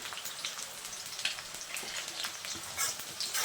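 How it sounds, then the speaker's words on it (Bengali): Potatoes frying in oil crackle and spit with a dense, rain-like patter, moderately loud and close, with occasional stirring taps and no speech. "আলুটা একটু লাল লাল করে ভেজে নেব"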